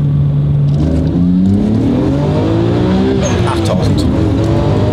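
Nissan R34 GT-R with a 280 PS engine revving hard while driving, rising harmonic engine note climbing through the gears, loud and close inside the car, with people talking over it.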